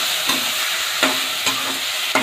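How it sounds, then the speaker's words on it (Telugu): Tomato and paneer cubes tossed in hot oil in a pan for a kadai paneer gravy, giving a steady close sizzle with a few sharp stirring clatters at intervals. "ఇప్పుడు పనీర్ వచ్చి క్యూబ్ క్యూబ్గా కట్ చేసి పెట్టుకోండి, దాన్ని వేస్తాక. దాన్ని 1 నిమిషం ఆయిల్ వచ్చి టాస్ చేయాలా"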